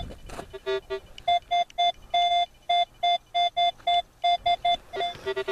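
A metal detector sounds a string of repeated electronic beeps while treasure hunting for gold and old relics near a house, short tones in an irregular rhythm, close and clear with no talk.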